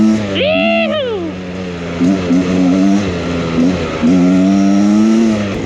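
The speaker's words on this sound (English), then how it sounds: "Feels so good to be riding the bike again, man." A motorcycle ridden along a wet road full of puddles, its engine loud and close, revving up in a rising whine before settling into a steady drone, then swelling again.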